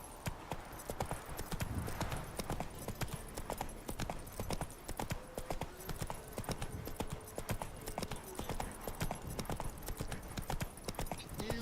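Horse hooves galloping in The Witcher 3: Wild Hunt, a fast, steady clip-clop drumming that carries on without a break, close and fairly loud, with a faint snort or whinny now and then.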